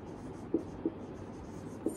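A pen or marker writes out a math solution on paper or a board, with a few soft scratching strokes and light taps, faint and close.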